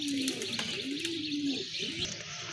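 Rajshahi Giribaz pigeons coo in soft, repeated low calls, close by, over a faint background hiss.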